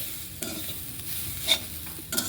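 Grated coconut frying in oil in a pan, a soft steady sizzle with a few brief scraping stirs near the start, middle and end of the short stretch, close and without any talking.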